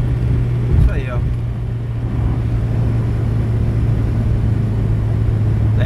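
A Volkswagen Gol Star 1.8 engine drones loud and steady from inside the cabin, its low hum holding throughout, with a brief voice near the start.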